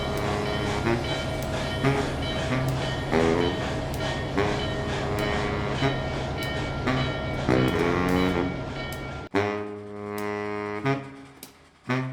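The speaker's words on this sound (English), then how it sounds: "the streamliners wasted little time getting the train up to speed" Streamliner passenger train with J steam power running on the rails, a loud continuous rumble with rhythmic rail clicks and tonal humming, shifting near the end to a steadier, harmonic-rich roar.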